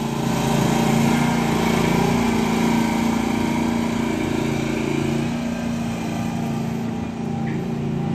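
A 2017 Gravely ZT HD zero-turn mower runs outdoors with a steady, loud engine drone that holds nearly constant and dips slightly toward the end, with no talking.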